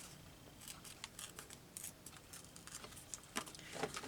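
Paper for a junk journal is torn by hand in a quiet room, a series of short, faint ripping and crinkling bursts spaced unevenly across a few seconds.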